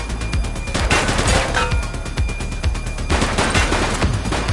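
Rapid bursts of gunfire in The Precinct video game, dense overlapping shots and automatic fire rattling loudly throughout, with no talk.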